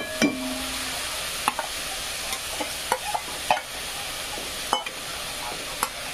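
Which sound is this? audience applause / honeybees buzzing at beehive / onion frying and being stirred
onion frying and being stirred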